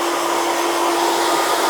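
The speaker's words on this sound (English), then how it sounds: "Hairdryer, high heat, high speed, okay?" Hair dryer running on high heat and high speed during a haircut, a steady close whooshing roar with a constant motor whine, loud and unbroken throughout with no talk.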